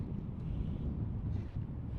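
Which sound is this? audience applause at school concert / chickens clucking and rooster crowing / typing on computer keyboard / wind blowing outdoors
wind blowing outdoors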